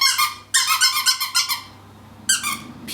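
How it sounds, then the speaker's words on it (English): A squeaky stuffed animal toy for a kitten squeaks in quick bursts of several high, close, fairly loud chirps, then goes quiet before two more squeaks near the end. "He also really likes just stuffed animals that make squeaky noise."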